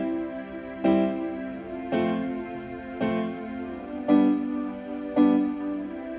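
A Lowrey organ plays its harmonic and rhythmic chord features together, producing a sustained chord with five evenly spaced rhythmic pulses about a second apart, moderately loud and with no talking.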